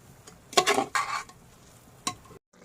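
Beef tripe being sautéed with blended spices in a pan, a few close scraping stirs with a soft sizzle underneath, brief bursts separated by quieter gaps, no talking.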